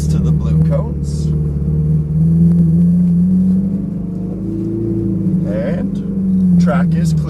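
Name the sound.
Ferrari 458 Italia engine driving onto track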